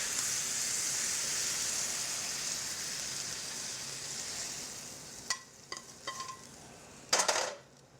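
Black tiger prawns with garlic and pepper sizzle steadily in a hot pan as fresh cilantro is tossed in, followed by a few sharp clinks of utensil against pan near the end.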